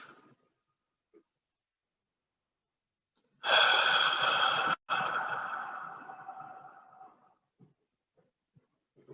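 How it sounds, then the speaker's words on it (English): A single long, slow exhale through the mouth during a guided meditation, close and breathy, swelling then fading over a few seconds, with quiet faint breathing before and after. "breathing in through your nose, breathe out through your mouth"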